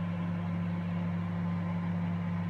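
A white Sharp R664WM 20-litre microwave running on its grill function while toasting bread gives a steady, even mechanical hum that holds unchanged throughout, close and moderately quiet, with no talking.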